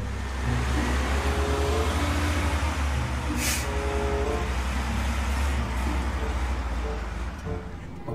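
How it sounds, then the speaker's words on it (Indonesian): A container truck's engine rumbles close and loud in a steady, continuous drone, with a brief high hiss partway through and no talk. "truk kontainer"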